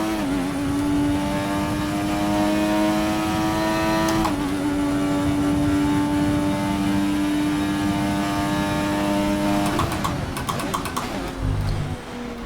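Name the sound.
F1 2020 race car engine downshifting, video game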